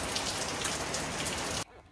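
Steady rain pours down on a stormy April morning, a dense, close hiss of drops on surfaces that cuts off abruptly near the end.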